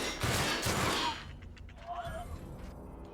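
A short burst of rapid gunfire from a weapon in the video game The Outer Worlds, loud at first and then fading into quieter game sounds.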